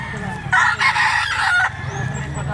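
A black-legged rooster crows once, loud and close, the drawn-out call rising and falling over faint background voices and farmyard noise.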